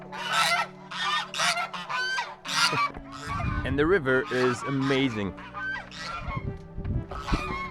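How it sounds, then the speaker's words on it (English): Loud, repeated honking from several geese nearby in a Korean mountain valley, overlapping in bursts, while a person talks over them. "we've got neighborhood geese right there"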